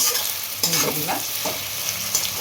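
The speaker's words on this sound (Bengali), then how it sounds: "এই পেঁয়াজটা আমি আধা ভাজা করে নিয়েছি" Salted onions frying in a pan for a mutton dish, a steady close sizzle under repeated stirring scrapes, loud and continuous.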